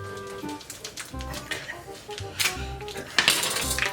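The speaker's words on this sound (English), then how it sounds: "we're gonna need Mr. Knife again" Metal utensils and pans clatter and clink in an irregular scatter of sharp knocks while someone cooks a cheesy dish at home, with brief low rumbles between the hits.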